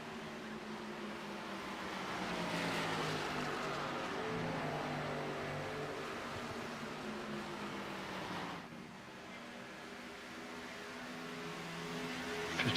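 Race cars on a short track at Indianapolis roar down the start-finish straight into turn one, a sustained engine drone with shifting pitch, fairly distant and steady, with a sharp change partway through.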